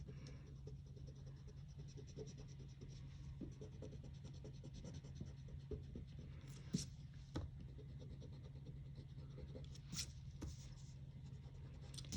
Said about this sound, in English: I'm going to go ahead and erase my excess lines